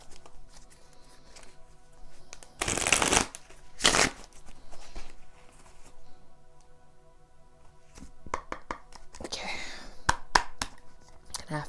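Tarot cards being shuffled in bursts of crisp riffling and flicking, loudest around the third and fourth seconds and again near the end, with quieter handling and soft card taps between, close and unaccompanied by talk.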